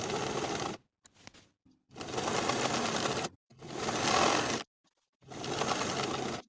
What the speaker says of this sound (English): Now I'll sew the buttonholes in place.